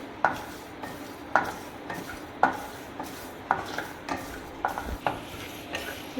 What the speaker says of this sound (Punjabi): ਥੋੜੀ ਦੇਰ ਵਾਸਤੇ ਆਪਾਂ ਇਹਨਾਂ ਨੂੰ ਰੋਸਟ ਕਰਾਂਗੇ